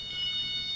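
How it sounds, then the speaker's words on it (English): An emergency call alarm on a STARS air ambulance flight nurse's device goes off indoors with a steady, high, piercing electronic tone held throughout a brief moment. "And there's the alarm."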